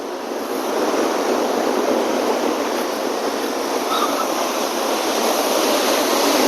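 Water released from a reservoir surges past a bridge at Sileru, a steady, loud broadband roar of rushing flow that holds constant throughout with no voices.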